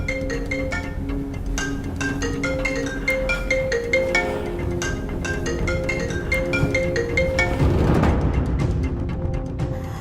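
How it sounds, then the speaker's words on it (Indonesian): Repeating melodic ringing tones sound on an outgoing phone call, steady and fairly loud. A noisy burst breaks in near the end. "Aku coba telepon Mas Aldi"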